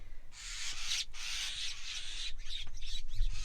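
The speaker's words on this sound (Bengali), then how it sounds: "দেখতে পাচ্ছ এই যে অসংখ্য শালিক পাখি উঠছে" A flock of common mynas rises from burrow nests dug into an earthen bank on a river char, giving a continuous broadband rush of wingbeats and rustling with a few faint calls, steady and fairly close.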